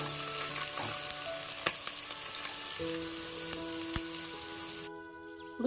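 Onions frying in oil for a biryani, a steady close sizzle and crackle with light stirring clatter throughout, dropping away near the end.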